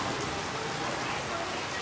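Steady rain pours down outdoors during a storm with gale-force wind gusts, a dense continuous hiss filling the whole moment at fairly low level with no clear breaks.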